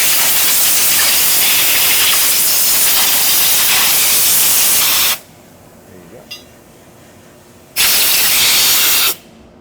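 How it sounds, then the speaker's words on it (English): Compressed air hose blasting leftover blast media off metal parts before Cerakote spraying: loud, steady roaring hiss for about five seconds, a near-silent pause with a faint click, then a second shorter blast that cuts off abruptly. "we want to go ahead and air blast it one more time, get all that media off of it"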